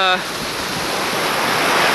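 Water rushes steadily at Agate Creek near Agate Beach, a loud continuous wash of broadband noise like a stream or surf, briefly preceded by a short tonal sound at the start.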